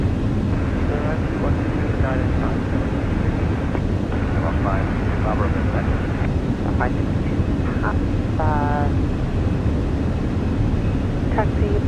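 Airbus A320ceo engines in a flight simulator during a dawn takeoff from Dublin's runway 28L, a loud steady roar with radio chatter and voices heard over it throughout.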